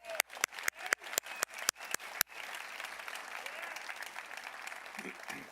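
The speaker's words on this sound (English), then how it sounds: "Let's clap for you on that one." An audience at a children's award ceremony applauds: a few sharp, evenly spaced claps open, then a thick sustained wash of clapping from many hands carries on steadily to the end.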